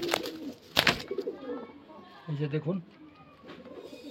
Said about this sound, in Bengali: দেখেন পায়রা অনেক পায়রা আছে ঘরে, প্রচুর পায়রা আছে